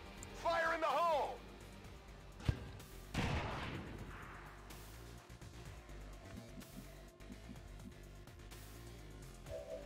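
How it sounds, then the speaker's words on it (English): A grenade launcher fires in a tactical video game battle with a UFO assault, giving a sharp shot followed by a heavy booming blast, mixed with other game effects and voices. "So let's get the grenade launcher shred in"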